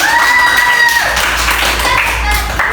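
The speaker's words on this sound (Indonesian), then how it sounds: "Iya, beri tepuk tangan sekali lagi." Classroom applause from pupils during an Indonesian school lesson, a dense patter of many hands clapping steadily for about three seconds with voices and cheers mixed in.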